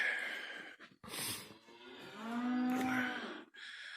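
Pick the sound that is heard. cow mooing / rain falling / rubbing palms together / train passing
cow mooing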